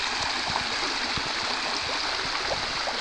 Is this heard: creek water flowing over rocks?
yes